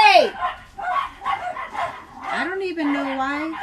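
Dogs barking and yipping at a fence at the neighbour's dogs: sharp, loud barks and rising whimpering yelps in quick, overlapping bursts, close by, with a person shouting over them.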